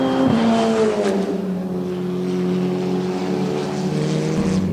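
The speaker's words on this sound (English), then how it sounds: "Jason Alder has Nick Persing right on his gearbox" FR Americas race cars at New Jersey SpeedTour roar past with a sustained, high-revving engine drone that slowly shifts pitch, loud and steady over the whole stretch.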